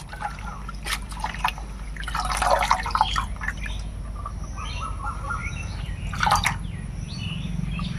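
Dheki shak fern greens being washed in water, soft splashes and drips with a couple of louder sloshing moments, over a low steady hum and faint bird chirps in the background.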